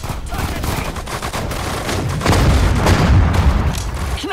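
Rapid bursts of gunfire and heavy booms from a Sudden Strike 4 tank battle at Kursk, loud and continuous, with shouted German voices under the din.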